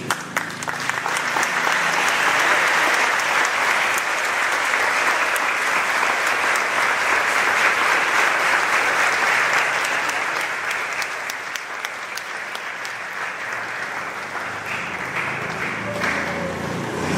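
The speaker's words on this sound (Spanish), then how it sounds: "Un aplauso, aplaudilo," A church congregation applauds during a Catholic service led by a priest, with steady, full clapping that carries for over ten seconds before tapering off somewhat.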